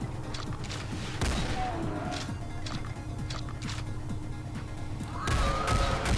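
Rocket explosions and gunfire in Doom 2, a dense run of sharp blasts and impacts over steady game music, with a heavier burst near the end.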